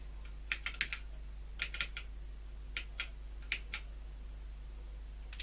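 Keys clacking on a ZX81 computer's keyboard during a repair project, a few irregular bursts of close, crisp taps with short pauses between them, over a steady low mains hum.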